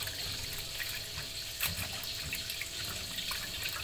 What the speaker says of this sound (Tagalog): Hugasan din po natin ang ating alugbate na dalawang beses.